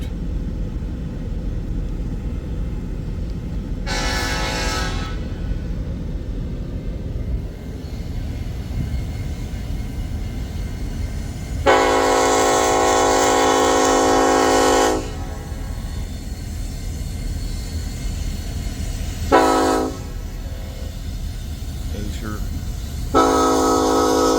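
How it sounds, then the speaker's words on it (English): A coal train rumbles steadily past at Pacific Junction, Iowa, while its horn sounds in several bursts, one long blast in the middle and shorter ones before and after. "Lots of coal trains."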